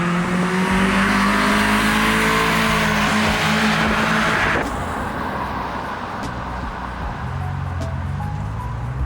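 An old car engine runs loud and close, roaring as it revs hard for a few seconds, then drops back to a rougher, lower running note.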